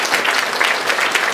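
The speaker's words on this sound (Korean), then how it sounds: "격려의 박수, 하나님께 감사의 박수." A burst of applause from a congregation at a church ordination thanksgiving service, steady and dense clapping throughout, fairly loud and close.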